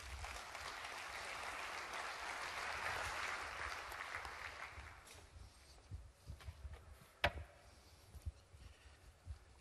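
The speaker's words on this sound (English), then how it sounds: "So please, a big round of applause for Stephen Harris." An audience at an education conference applauds a speaker, a broad wash of clapping that swells and then thins out, leaving a few scattered thumps and handling knocks near the end.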